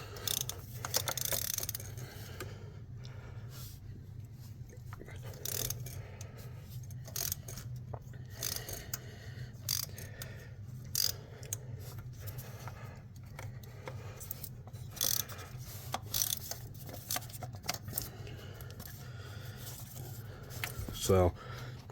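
A ratchet with spark plug socket and extension clicks in short bursts on a 2011-2020 Ford F-150 engine, close metallic ratcheting over a low steady hum, with someone talking intermittently.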